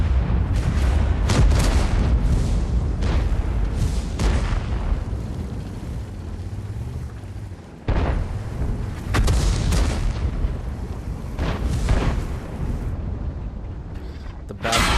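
Tank cannons firing in World of Tanks on the Mauschen Mines map: several loud, booming blasts spaced a few seconds apart over a continuous rumbling engine and battle din.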